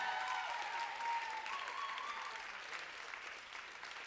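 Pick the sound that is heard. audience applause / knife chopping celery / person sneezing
audience applause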